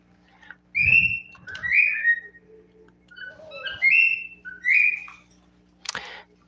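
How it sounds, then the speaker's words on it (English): Pet birds whistle and chirp in a string of bright, clear phrases, loud and close, with short gaps between bursts and a brief rustle near the end. "My birds are talking too much."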